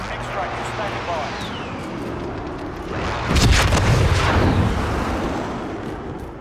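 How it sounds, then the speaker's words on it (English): A bomb blast in Call of Duty: Modern Warfare Plunder mode, a heavy rumbling explosion swelling up midway over continuous game noise and lingering as a low roar; voices talk through the clip. "Watch the sky. A bomb."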